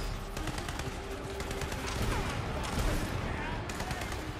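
Rapid gunfire in the video game Tiny Tina's Wonderlands, a dense continuous stream of shots and game effects filling the whole stretch, with a voice speaking underneath.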